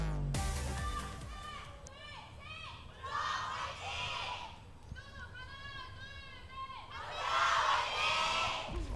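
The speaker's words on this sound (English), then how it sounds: "Kongdu Panthera fans, of course, still going to be outweighing the cheer there of the Flashlux fans, but they finally have something to cheer for, Papa Smithy" An esports arena crowd at an Overwatch Apex Season 4 match between Flash Lux and KD Panthera cheers and shouts in repeated swelling waves, large and roomy, with a caster talking over it.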